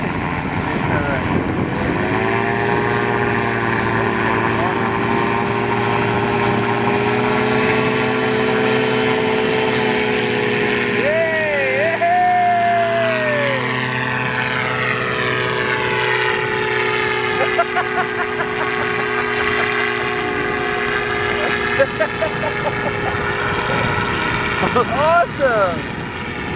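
Propeller flying boat aircraft droning steadily and loudly close by for the whole stretch, its engine pitch shifting as it passes, with people talking faintly over it in the cold outdoors.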